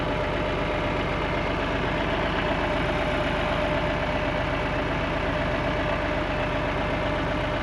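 A farm tractor's engine idles nearby in a loud, unbroken, even rumble with no other sounds on top.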